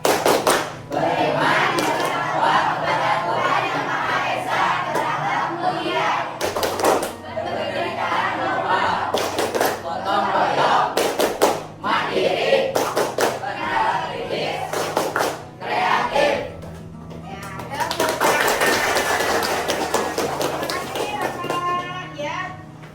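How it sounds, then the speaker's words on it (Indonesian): Classroom of students doing the tepuk profil pelajar Pancasila rhythmic clapping chant, children chanting loudly in unison between bursts of sharp group claps, with chatter and a teacher's voice around it. "Tepuk profil pelajar Pancasila"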